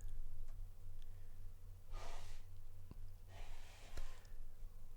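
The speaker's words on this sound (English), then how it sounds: "That was a thick nose blow." Two faint, breathy nasal blows a second or so apart, soft and close against a low steady hum, with no talking.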